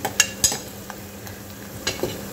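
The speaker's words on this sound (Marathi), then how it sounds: "कांद्याला आपण छान हलका गुलाबी होतपर्यंत शिजू द्यायचं आहे." Onions frying in a pan for masala khichdi, with soft sizzling underneath and several sharp clinks of a spoon stirring against the pan, close and fairly quiet.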